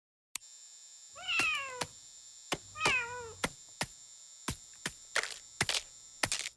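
A cat meows twice, clear rising and falling cries close by, among sharp clicks and thumps in an animated hospital operating room, with a steady electrical hum underneath.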